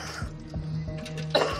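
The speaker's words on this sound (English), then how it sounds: "can you give us a few coughs as well?" A young man in a hospital emergency department coughs several times in short deep bursts, close and alone, with steady monitor-like hum in the background.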